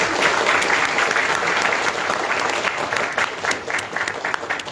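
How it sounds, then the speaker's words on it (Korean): A large crowd at a political party's founding convention applauds vigorously, a loud continuous roar of clapping that stays strong for the whole stretch. "힘찬 박수 부탁드리겠습니다"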